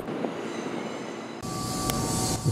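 A JR 205-series KRL electric commuter train, a long twelve-car set, enters platform 5 at a busy station, with a steady rumble that swells suddenly midway and a thin squeal of wheels running alone to the end.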